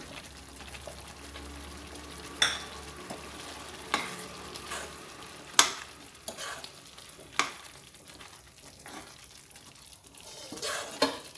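Chickpea masala for North Indian chana masala cooks in a pan, a soft sizzle running underneath while a spoon stirs and scrapes in several distinct knocks spaced a second or two apart.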